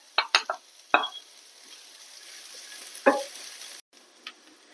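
Chopped onion drops into a pan of ginger and garlic already browned, giving a few sharp clatters and a burst of sizzling, then a steady faint fry broken by another stir and a brief pause.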